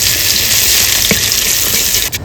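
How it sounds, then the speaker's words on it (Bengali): Bay leaves, dried red chillies, cumin and ginger paste hit hot mustard oil, giving a loud, steady, close sizzle with a faint stir or clink partway through and a brief dip at the end. "এবার ফোড়নটা দিয়ে দেবো"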